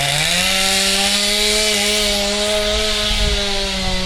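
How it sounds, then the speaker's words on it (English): A chainsaw runs outdoors during a town walk where trees are being cut for firewood, giving a loud, steady, droning whine with a slight rise in pitch at the start and no voices over it. "Having fun times with a chainsaw."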